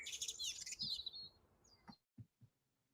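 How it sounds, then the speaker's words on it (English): Birds chirping outdoors in Hampshire, a dense run of high, quick tweets for the first second and a half, then a few sparse calls and soft low knocks against a quiet background. "the birds here in Hampshire"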